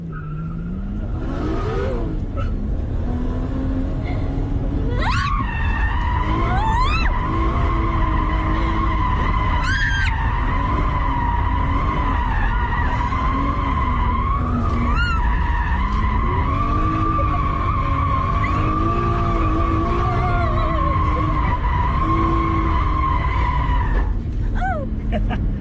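A rear-wheel drive car drifts with sustained, loud tire skidding and squealing that wavers in pitch, engine revving underneath, continuous throughout.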